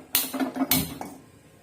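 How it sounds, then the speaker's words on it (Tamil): A metal kadai, already used for frying vadai, is set down and handled on a stove, making two close clanks with brief metallic ringing and a light knock. "இப்போ வானல் வந்து எடுத்திருக்கோம்"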